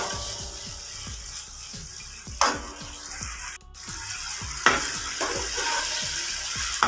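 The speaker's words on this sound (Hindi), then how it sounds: "दरमियानी आंच पे आप लोगों ने करना है ताकि ये गोश्त हमारा अच्छे से फ्राई हो जाए।" Chicken meat for shawarma fries in a pan over medium heat, a steady sizzle with rhythmic scraping of stirring and a few brief louder crackles, no voices.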